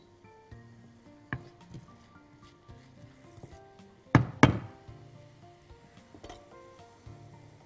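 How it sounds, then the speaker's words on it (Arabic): Knife chopping mushrooms on a cutting board while cooking stuffed chicken, a few scattered knocks then a sharp cluster of close cuts, with quiet kitchen background between. "نقطع المشروم اللي عندنا"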